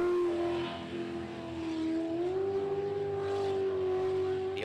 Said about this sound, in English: Gives it a completely different engine note than the other boats that are out here.